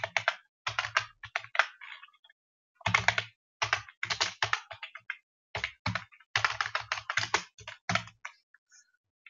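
Bursts of computer keyboard typing while code is entered to deploy a Qt application on Windows, clustered rapid clicks in several runs separated by short pauses, close and clear with no talk.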